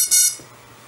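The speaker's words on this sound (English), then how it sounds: "The ESCs did the calibration beep" A short, bright electronic calibration beep from a quadcopter's ESCs, with harmonic layers, lasting a fraction of a second, then fading into quiet background hum.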